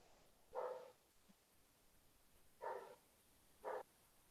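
Dogs outdoors barking three times at a distance, faint short bursts spaced apart over a quiet background.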